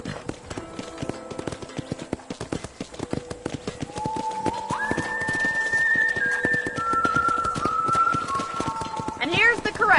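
Horse hooves clip-clop steadily through a ranch corral in the Red Dead Redemption video game, a continuous rhythmic trot running under constant talking, with game music tones rising behind it.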